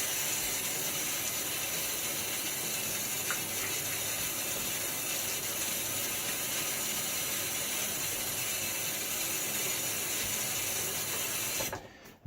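A shaving razor is rinsed under a running tap, giving a steady, close hiss of flowing water for about twelve seconds before it cuts off.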